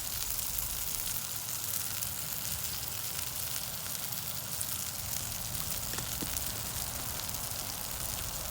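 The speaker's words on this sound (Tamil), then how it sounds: "கத்திரிக்காய் கறி அடுப்பில் இருக்குது." Brinjal curry cooks on a stove with coconut milk and oil, producing a soft, even hiss and faint bubbling sizzle that continues unbroken from start to end, with no voices.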